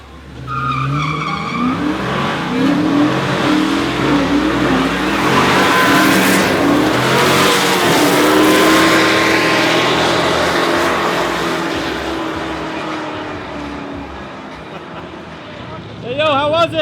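A Pro Mod drag race car roars through a long, loud run with engine pitch climbing and tire squeal, fading toward the end. Voices talk over the noise.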